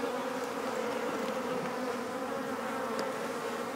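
Honey bees on the island of Norderney hum in a close, steady swarm, a full continuous buzzing drone with no pauses and no voices.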